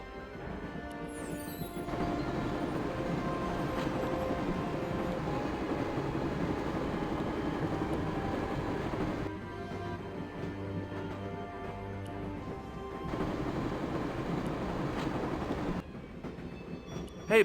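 A train rolls steadily along the rails in the Broken Sword: The Shadow of the Templars video game, a continuous rumbling rattle with a low hum that shifts in tone partway through, with no voices.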